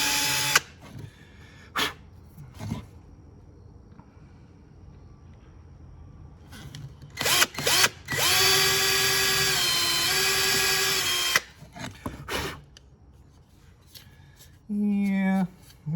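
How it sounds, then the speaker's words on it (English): A power drill with a pointed bit drills into material in the interior of a Camaro, making one steady whining burst of several seconds, close, between scattered handling knocks and clicks. "That's for drilling holes where it's important, so you can get that started right where you want it."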